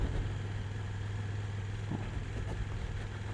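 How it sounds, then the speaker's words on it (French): A KTM Super Duke 1290 GT 2022 motorcycle idles while warming up in wet weather, a steady low rumbling hum with faint mechanical ticks, heard alone at moderate distance. "On va faire chauffer cette jolie moto au top."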